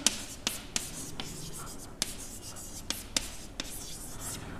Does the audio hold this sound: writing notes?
yes